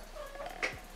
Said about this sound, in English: What is my cat doing, bro?